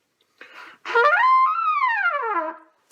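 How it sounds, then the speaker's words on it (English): A trumpet played without pressing its valves slides smoothly up and then down through several notes by lip control alone, after a couple of short breathy attempts, solo and close. "We can do the same thing on the trumpet."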